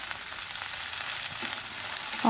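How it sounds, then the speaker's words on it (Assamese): Broad beans and onions sizzle steadily in a hot pan, a soft continuous hiss with faint crackles and a brief clink at the end. "এতিয়া দি দিম উৰহীখিনি আৰু উৰহীখিনি দি অকণমান সময় 1 মিনিটমান সময় ভালদৰে ভাজি ল'ম।"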